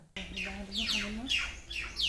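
A small bird gives a quick series of sharp, descending chirps, close and fairly clear, with short gaps between calls.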